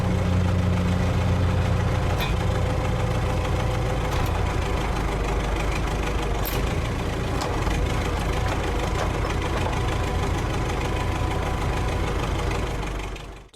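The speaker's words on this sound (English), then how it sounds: "Bulldozer." A bulldozer engine idles steadily and loudly throughout, a deep, continuous low rumble with a constant mechanical drone that cuts off abruptly at the end.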